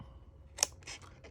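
A few crisp scissor snips cut paper for an Easter bunny treat box, a sharp close cut followed by a couple of softer snips over a low, quiet room hum.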